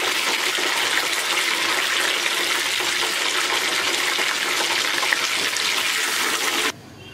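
Chicken pieces fry in hot oil on lowered heat for a crispy fried chicken, giving a loud, steady, dense hiss that runs unbroken before cutting off abruptly near the end.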